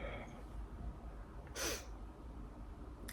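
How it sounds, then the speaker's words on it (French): A single short sneeze bursts out partway through, close and sharp, over a quiet room hum, with a faint breathy sound near the end. "je vais éternuer"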